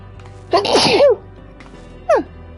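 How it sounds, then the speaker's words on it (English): A single loud, close sneeze with a sharp vocal burst, followed about a second later by a brief sniff or throat sound, over a low steady hum from a game session. "knew a sneeze was coming"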